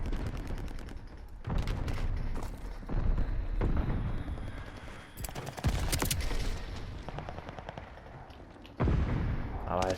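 Grenade blasts and gunfire in a video game, a series of loud broadband booms and crackling shots recurring across the stretch, with game voices talking over the action.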